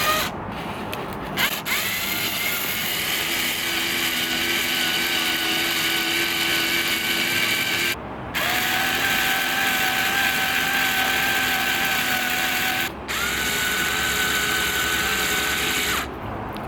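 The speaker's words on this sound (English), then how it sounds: "I'm gonna connect this up with the electric screwdriver on the coupler here just to give you an idea of what this thing looks like when it's in motion" An electric screwdriver spins a wheelchair motor through a coupler, giving a loud, steady whirring drone in three long runs separated by brief stops, with the pitch stepping slightly between runs.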